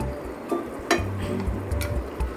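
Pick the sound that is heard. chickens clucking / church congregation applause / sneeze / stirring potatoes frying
stirring potatoes frying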